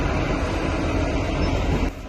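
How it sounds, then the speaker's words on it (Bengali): Train from Shimla rumbling past a level crossing, a dense, steady low roar of wheels and carriages up close that eases slightly at the end. "এই ট্রেনটাই এইমাত্র এলো সিমলা থেকে"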